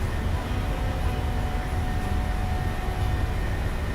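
A PMDG Boeing 737-800 in a flight simulator at takeoff thrust, its engines giving a loud, steady roar with a constant high whine, unbroken for the whole clip and with no voices.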